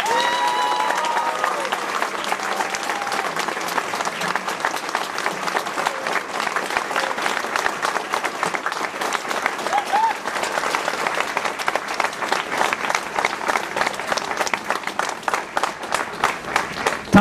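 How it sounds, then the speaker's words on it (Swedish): Sustained applause from an audience at a red-green political leaders' rally in Växjö, a dense steady clatter of many hands with some crowd voices, loud and continuous throughout. "jättehärliga applåder"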